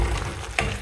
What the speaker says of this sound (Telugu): జస్ట్ మిక్స్ చేయండి కంప్లీట్గా